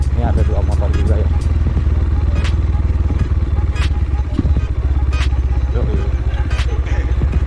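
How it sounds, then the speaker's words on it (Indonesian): Two motorcycles idle nearby at a scenic hilltop spot, a steady low rumbling putter running throughout with occasional clatter, while people talk over it. "Ini ada 2 motor juga ya."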